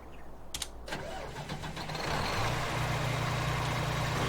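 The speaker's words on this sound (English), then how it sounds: "let's run up and get the combine started" A combine harvester in Farming Simulator 19 starts up: a few cranking clicks and turnover, then the engine catches and settles into a steady, loud idle rumble.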